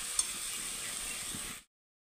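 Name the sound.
frying in a pan on a low gas flame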